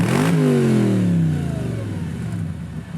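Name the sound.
Audi S4 engine revving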